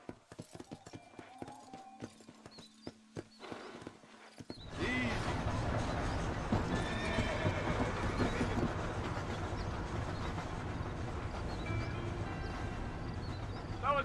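Horse hooves clip-clopping along in the Red Dead Redemption video game, a soft rhythmic clatter at first, then swelling into a loud, dense galloping rumble that fills the rest of the stretch, with no talk.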